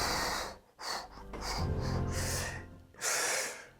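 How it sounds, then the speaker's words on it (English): A person breathes out audibly close to the microphone in several strong, airy exhales, with short pauses and a sharp intake of breath between them. "So if you breathe out"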